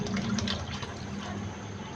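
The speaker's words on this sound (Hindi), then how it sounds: "यहाँ पे मैंने 600 ग्राम चावल लिए हैं और इसमें हम 1 लीटर पानी डाल देंगे" Water pouring steadily into a pot of rice for chana pulao, a continuous close splashing rush with no talking.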